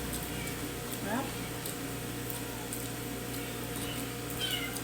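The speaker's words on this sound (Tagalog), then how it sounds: "May pusa kami." A pet cat meows a few times at a mukbang seafood boil meal, the short rising calls near but soft beneath steady background hum and people talking.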